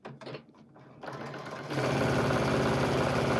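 Sewing machine stitching quilting on a trapunto-style Christmas tree, starting with a few slow stitches and then running at a steady, fast, loud mechanical rhythm close by.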